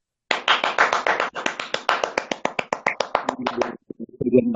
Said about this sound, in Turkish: Alkışlarımızı gönderiyoruz.